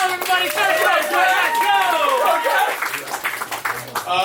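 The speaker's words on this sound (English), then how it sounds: "Clap your hands right now, everybody." A roast battle audience claps and cheers, with whooping voices rising over a steady wash of hand claps that keeps going throughout.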